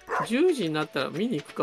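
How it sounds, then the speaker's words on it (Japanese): A dog barking in the farming video game Stardew Valley, a run of yelping, pitch-bending barks under and between a man's casual speech. "犬の声すごいするけど"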